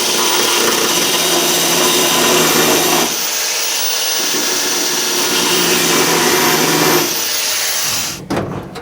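A power tool cuts through a metal bulkhead on a VW Beetle gasser project car, giving a loud, steady, harsh grinding whine that changes pitch briefly twice, then stops with a few clanks near the end.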